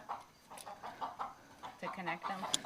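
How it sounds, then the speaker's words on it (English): Chickens cluck and squawk in a series of short bursts near the microphone, with one sharper squawk near the end, while people talk quietly alongside. "leave the chicken alone"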